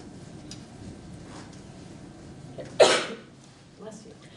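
A single sharp sneeze bursts out near the mic during a live-streamed chat, loud and brief, standing well above the faint background hum.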